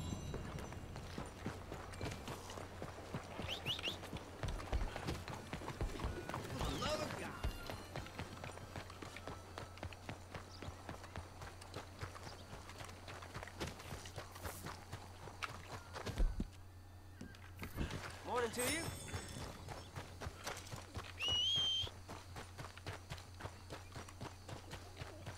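Rhythmic clip-clop of horse hooves running in the video game Red Dead Redemption 2, steady and mid-distance, with occasional thumps and brief louder bursts over a low hum.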